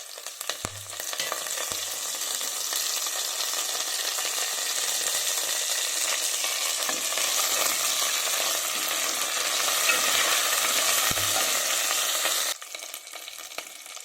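Curry leaves and dried red chilies fry in oil in a pan while cooking spinach kichidi, a loud steady sizzle with a few stirring knocks, close and continuous, easing slightly near the end.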